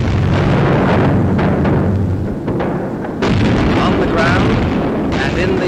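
Artillery shelling in a 1944 RAF wartime newsreel, heavy rumbling booms rolling one after another in a dense, loud barrage with a brief lull midway.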